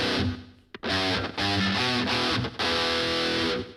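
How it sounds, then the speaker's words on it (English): Electric guitar through an iOS amp simulator playing short chords with a quick slapback delay doubling each hit, loud and upfront with no voices. "Slap back."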